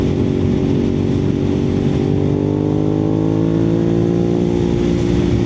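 A Suzuki SV650 motorcycle engine with a flashed ECU revs loudly and steadily up close, its pitch climbing gradually through the stretch without any talking over it.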